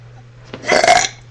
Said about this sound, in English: That's how like I burp.